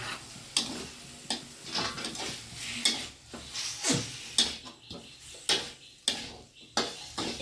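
Ground mint leaf paste is stirred into a curry in a pan, with a steady faint sizzle under repeated scraping and clinking strokes of a spoon against the pan, arriving in a loose rhythm about once a second.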